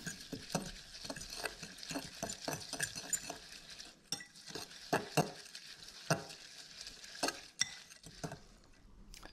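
Bacon chili crisp Brussels sprouts with crushed garlic, chili and onion get stirred in a pan, a close run of scraping, clattering strokes over a soft sizzle, with several sharper knocks along the way.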